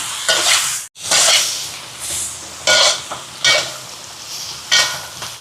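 Repeated bursts of sizzling as prawn curry ingredients are stirred in a hot pan, each scrape and hiss rising and fading in a loose rhythm.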